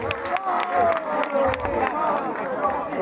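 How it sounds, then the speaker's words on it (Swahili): A concert crowd at a New Year show claps and cheers for a new artist taking the stage, a steady, dense wash of applause and crowd noise under a voice and faint music. "Makofi kwake."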